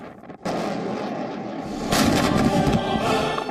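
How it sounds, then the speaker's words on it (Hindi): Chinese tanks firing shells from the ground during military drills near Taiwan and the Yellow Sea: a sudden heavy rumble starts and holds steady, then a louder blast swells at the midpoint, with no voices. "और जमीन से आग के गोले छोड़ते चीन के टैंक।"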